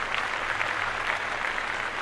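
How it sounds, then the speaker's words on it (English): A short burst of soft applause from a small group on a podcast, dense and steady but quiet, with no speech over it. "let's give Roddy Ricch a round of applause"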